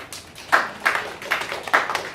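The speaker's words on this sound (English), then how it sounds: "Can you clap for that?" A modest audience at a BF Suma business opportunity presentation claps in a few scattered, uneven bursts, quiet and somewhat distant, with no voices over it.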